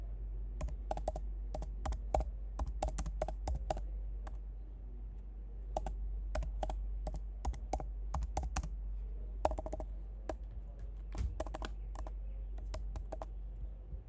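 Someone types on a computer keyboard in irregular bursts of quiet close clicks over a steady low hum, with short pauses between runs of keystrokes.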